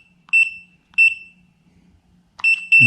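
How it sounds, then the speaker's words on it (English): Short, high electronic beeps from a Kwikset SmartCode door lock keypad: two single beeps, then a quicker pair near the end, clear and close in a quiet room. "You press the program button, it beeps at you."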